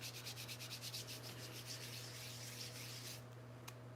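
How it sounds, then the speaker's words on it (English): A mixture for a protection spell is ground up by hand, a faint rhythmic scraping and rubbing of about a dozen quick strokes, then a short pause and a small click. "chip it up, grind it up"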